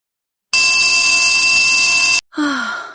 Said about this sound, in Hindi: हे भगवान, इस अलार्म को अभी ही बजना था।